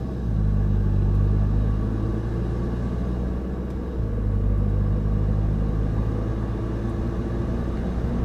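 Road and engine rumble swell inside a car picking up speed toward 50–55 miles an hour: a steady low drone with slight rises, heard from the cabin with no talking.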